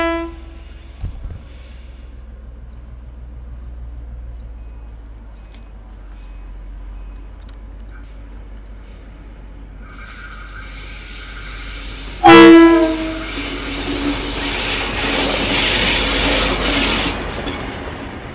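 Two DL class diesel locomotives leading a passenger train rumble low and distant, then a sharp horn blast and a louder rushing, rolling roar as the train passes close by.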